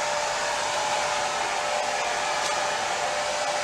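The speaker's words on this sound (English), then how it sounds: "All right, a little more hair dryer." A hair dryer blows steadily and close by, used in place of a torch to heat a resin painting and form cells, a constant loud whooshing hiss with a faint whine and no other sounds.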